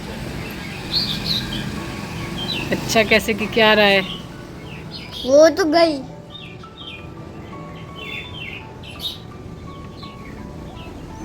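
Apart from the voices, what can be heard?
birds chirping in a garden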